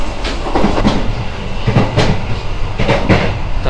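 Inside a moving executive-class passenger train carriage, a steady rumble with rhythmic clicking of wheels over rail joints, fairly loud and continuous, no voices.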